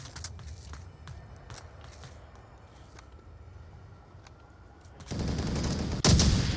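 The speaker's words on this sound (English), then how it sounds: "Return fire from Grey." Gunfire rings out in the VR shooter game Onward, scattered single shots and short bursts at a distance that swell into a loud, close volley near the end.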